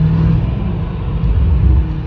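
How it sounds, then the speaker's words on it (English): BMW M-model exhaust with a Dahler valve controller in Sport Plus, burbling as the valves crack slightly open: a loud, close, deep rumble with uneven throbbing pops and swells over a steady engine drone. "You do hear the burble"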